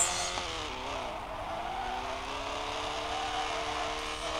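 Racing-game Porsche engine revving steadily with shifting tonal whine and tire noise, continuous and loud throughout with no talk; the car keeps crashing in the game.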